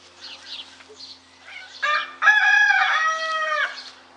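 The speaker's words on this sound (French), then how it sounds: "Le coq ne dit plus rien?" A rooster crows once, close and loud, a long harmonic cock-a-doodle-doo rising and holding after a few softer clucking sounds.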